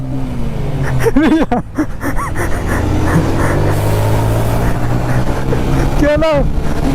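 A TVS Apache RTR 160 2V motorcycle engine drones steadily through a drag race, a sustained loud motor note with a rising rev burst near the end, while voices talk over it.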